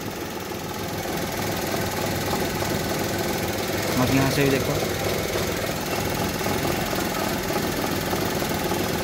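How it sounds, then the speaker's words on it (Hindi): A 2014 WagonR VXI car engine idles with heavy vibration, a steady rough rumble and knocking rattle heard close up while someone talks over it. "कितनी ज़्यादा वाइब्रेशन हो रही है"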